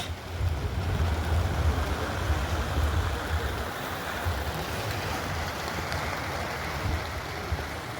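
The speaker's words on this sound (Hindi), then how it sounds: "बाहर चल रहा है भयंकर तूफान" Loud, constant roar of violent storm wind and heavy rain outside a tent on a mountain trek, a dense rumbling wash of noise with no letup, close around the listener.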